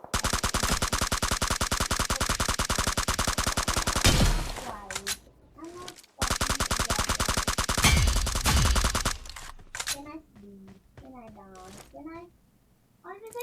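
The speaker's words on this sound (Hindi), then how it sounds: "फायरिंग शॉट्स आते हैं मेरे को पार जॉर्ज पुल की दूसरी ओर से" Rapid bursts of automatic gunfire in the BGMI battle royale game, two long sustained volleys separated by a short gap, followed by scattered single shots and a voice talking.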